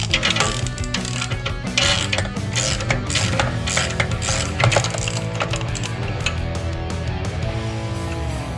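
A ratchet removes the bottom nut of the rear shock on a BMW E90 sedan. Steady, close clicking continues throughout against a loud, busy background, with no talking.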